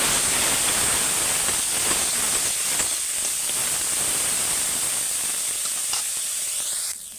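Bitter gourd with salt and turmeric fries in a pan, giving a loud, continuous close-up sizzle and hiss that holds steady throughout and drops slightly at the very end.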